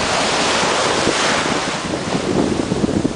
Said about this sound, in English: Ride the waves,